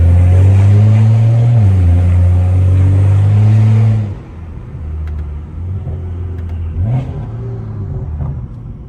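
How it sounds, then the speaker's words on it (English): A BMW 335i E92 with the N55 engine and straight-piped exhaust drives with a loud, deep droning rumble that sweeps up and down as it revs, then drops to a lower, steadier burble with a brief rev near the end. "this car is crazy loud"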